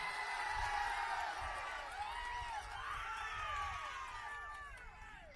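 A crowd at a political rally in Visakhapatnam cheers and whoops over a steady murmur, with scattered claps and rising shouts from many voices at a moderate distance.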